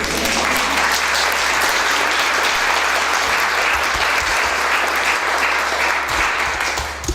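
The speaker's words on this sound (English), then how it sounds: "Should we give them a round of applause?" A crowd claps steadily and loudly, a dense wash of applause that holds from start to finish.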